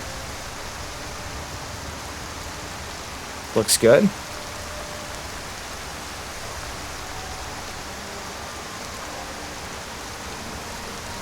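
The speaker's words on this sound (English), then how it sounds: "Oh, a little rain here." Steady soft rain hiss in the Skyrim video game, an even wash throughout with a brief voice breaking in near the middle.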